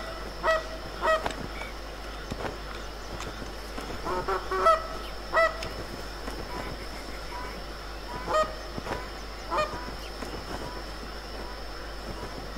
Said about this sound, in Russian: Не пойму, где гуси летят.